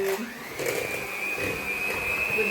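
Tarama being mixed thoroughly with bread and onion, producing a steady, moderately loud mechanical whirring hum that holds a sustained whine throughout, with no talking.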